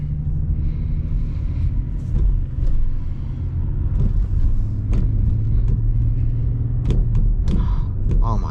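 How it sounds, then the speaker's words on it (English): A 2004 Bentley Continental GT with a 6.0 W12 engine, heard from inside the cabin while driving: a smooth, steady low engine hum and road rumble, with scattered soft clicks and knocks. "W12 engine, just incredible. So silent and smooth."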